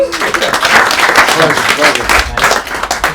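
An audience at a business meetup gives a round of applause for a presenter named Jess. Loud, dense clapping fills the room, with a few voices mixed in.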